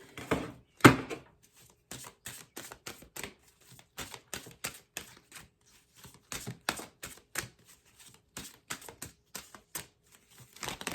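Quick, dry flicks and soft snaps of tarot cards being shuffled come in irregular bursts, close and fairly quiet, with short pauses between.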